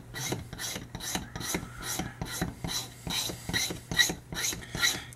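A file rasps in steady back-and-forth strokes across a tobacco pipe stem, close and fairly loud, in a regular rhythm of about two strokes per second with no talk.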